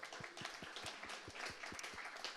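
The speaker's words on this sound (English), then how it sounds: "let's give Carbon 5 a round of applause" A small lunchtime tech meetup audience gives a brief round of applause, with quick, fairly faint clapping heard at a distance in a room.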